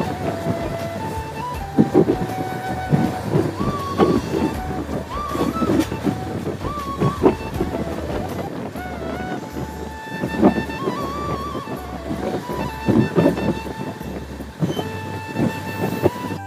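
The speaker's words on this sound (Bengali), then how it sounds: "আমাদের ট্রেন এখন এসে পৌঁছে গেছে দুর্গাপুর" The 13025 Bhopal Weekly Express runs near Durgapur, heard from inside the train as a loud steady rumble with rhythmic wheel clatter and occasional squeals, and a faint horn in the distance.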